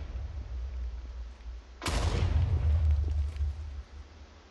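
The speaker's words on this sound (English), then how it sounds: "Oh god, I hear shooting." Gunfire in the Minecraft Murder Mystery video game: a single sharp, loud crack that rings into a low rumbling tail.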